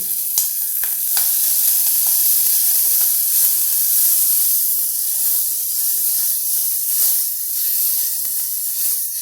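Fresh pigeon peas hit a hot pan with chili paste, dried ginger and curry leaves for Vidarbha-style pigeon pea rice, bursting into a loud, close, hissing sizzle that stays steady, with no talking.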